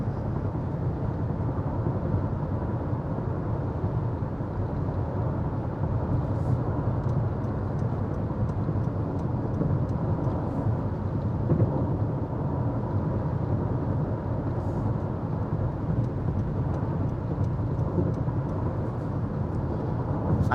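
Road noise inside a 2023 Honda CR-V EX-L while driving: a steady low rumble of tires and wind, constant and close, with no talking.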